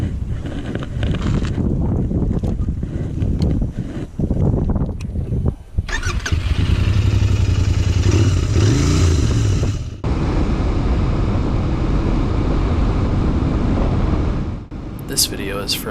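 A Royal Enfield Interceptor 650 motorcycle is ridden on the road, its engine a steady loud drone with revving surges and heavy wind buffeting over the microphone, and a rider's voice briefly audible early on.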